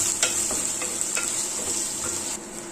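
Coconut pieces, crushed ginger and garlic fry in a pan for chicken curry with a steady close sizzle, while a spoon scrapes and stirs in soft knocks through it.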